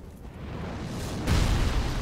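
A heavy, powerful shot from an enemy in Dark Souls 3 blasts downward, a low booming impact that swells in loudly partway through over a rumbling background, with no talking.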